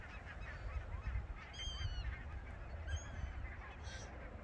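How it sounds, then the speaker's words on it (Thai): Geese honking outdoors by a pond as a flock lands, several distinct honks at about 1.5 and 3 seconds over steady ambient noise, no voices. "โน่นะคะห่านลงแล้วนะคะทุกคนเห็นไหมคะ"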